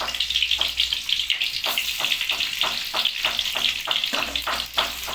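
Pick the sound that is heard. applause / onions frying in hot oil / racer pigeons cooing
onions frying in hot oil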